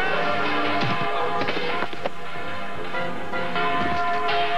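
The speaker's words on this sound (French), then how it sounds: "essaient de faire sonner une des cloches de l'église" A church bell rung by people pulling too hard, sounding as heavy metallic clangs and thuds that repeat irregularly, with loud, close ringing strikes and ringing tails over a busy background.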